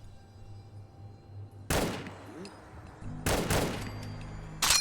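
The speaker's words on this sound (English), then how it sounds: "Whew, that guy had a rocket launcher." Gunfire and rocket launcher blasts in the video game Fallout 4: three loud, broadband bursts of combat noise, each ringing out over a steady low game hum, with quiet stretches between them.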